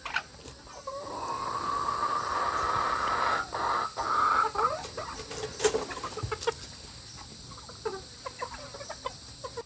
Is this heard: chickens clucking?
yes